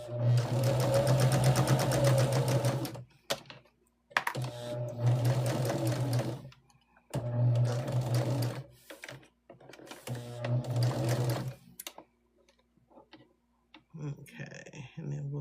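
A sewing machine stitching a quarter-inch seam on quilt fabric runs in four loud, close bursts of rapid mechanical whirring, each a few seconds long and separated by short pauses, with a person talking briefly in the gaps.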